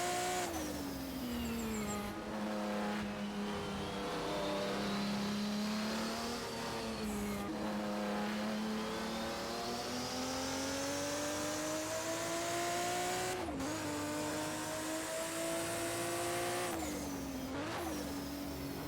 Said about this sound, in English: And you can just hear that turbo working in every aspect, how massive it is.